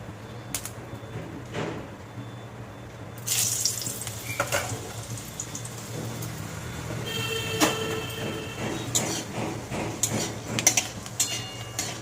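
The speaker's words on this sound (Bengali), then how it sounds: "তেল গরম হয়ে গেছে দিয়ে দেবো তিনটে শুকনো লঙ্কা ছিঁড়ে" Dried red chillies, torn into pieces, dropped into hot oil in a wok on a gas stove, giving a soft steady sizzle and crackle with occasional stirring clatter, heard up close.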